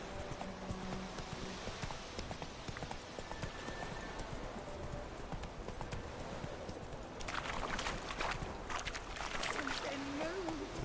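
Horse hooves clip-clop steadily through The Witcher 3 game world, a continuous mid-level rhythm of footfalls mixed with ambient game sounds and some talk, growing busier near the end.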